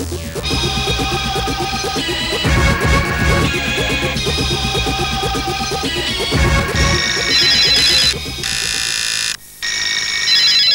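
An electronic telephone ringing tone during a live television viewer call-in, loud and continuous with a steady repeating pattern, joined by other tones and a brief dropout near the end.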